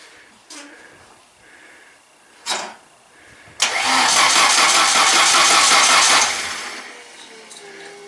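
A 1960 Triumph TR3A, just back from storage, cranks with a couple of brief clunks before its engine catches and roars loudly for a few seconds, then settles to a lower running hum.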